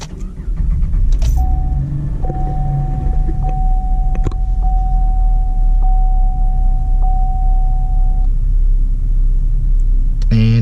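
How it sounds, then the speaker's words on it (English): A 2010-2014 Gen 5 V6 Camaro idles steadily after its oil change, its low engine rumble continuous and close throughout, with a faint steady tone riding above it and a few small clicks and knocks along the way. "Then we're just gonna start the car and make sure we don't have any oil pressure lights."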